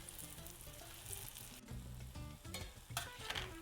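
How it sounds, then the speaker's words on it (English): A corn tortilla pan-fries in hot oil, giving a continuous close sizzle under a steady hum, with a few brief crackling bursts and no voices. "Add in 1 corn tortilla and we're gonna pan fry it until crispy and golden brown on both sides"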